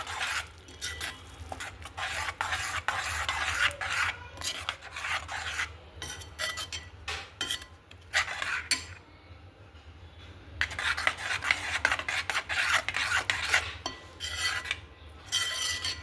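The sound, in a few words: stirring yogurt into fenugreek (methi) curry in a pan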